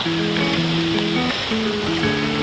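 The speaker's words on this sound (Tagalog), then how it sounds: "At umuulan na nga kasi talaga." Steady rain pours down in Bicol, Philippines, in a dense, continuous hiss, with low tonal hum from a motor running underneath.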